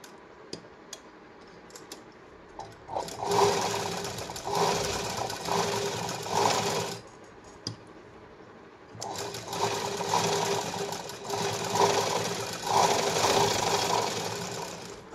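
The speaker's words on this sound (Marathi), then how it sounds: "मी जागेवर परत एक शिलाई मारते म्हणजे आपली डबल शिलाई होऊन जाते" A sewing machine stitching a katori blouse, running in two long, loud, steady bursts of rapid mechanical clatter separated by quieter pauses with a few light clicks, close by and with no talk.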